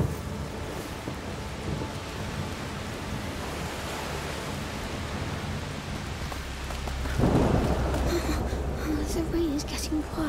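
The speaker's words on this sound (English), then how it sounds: "It's just a storm." A storm in A Plague Tale: Requiem with steady, hissing rain pouring throughout and a deep rumble of thunder swelling near the end, loud and enveloping, while a voice speaks beneath it.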